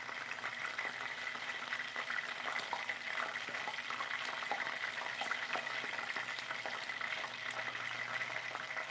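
Rice paper rolls filled with shrimp fry in a pan, giving a steady, dense sizzle and crackle with scattered small pops that continues evenly throughout, with no voices.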